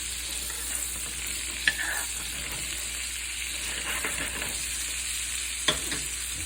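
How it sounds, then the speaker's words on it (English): Flounder fillet frying and being basted in a hot pan, a continuous bright sizzle with a couple of sharp spoon or pan clicks, close and steady, no talking. "Start basting this fish."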